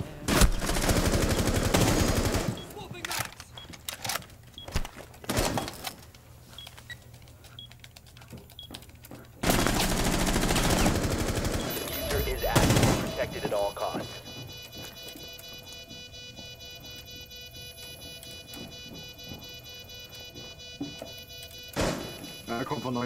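Rainbow Six Siege gunfire in loud, rapid bursts and volleys, separated by quieter stretches, with a voice talking over parts of it.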